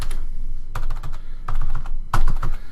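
Someone enters a credit card number on a computer keyboard, with short clusters of crisp key taps separated by brief pauses, close and clear.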